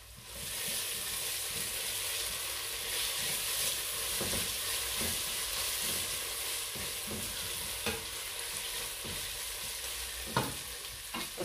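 Onion sizzling and being stirred in a pan for bacalhau with spinach, a steady close frying hiss with scraping stir strokes throughout.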